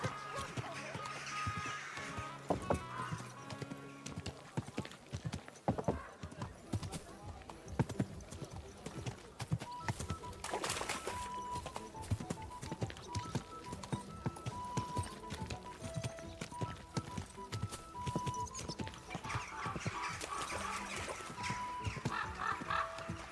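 Horse hooves clip-clop steadily while a horse whinnies now and then, with people talking over the scene and game ambience around, in the video game Kingdom Come: Deliverance 2.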